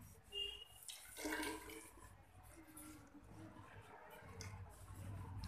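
Liquid is poured into a 200 ml measuring container, a faint, brief splashing trickle near the start amid low room noise, with quiet voices in the background.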